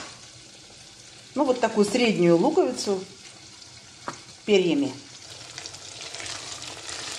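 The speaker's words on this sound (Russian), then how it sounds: "Постепенно обжариваем. Мясо закинуло, шкварчит." Steady hiss and crackle of meat frying in a pan runs throughout, while someone talks briefly over it.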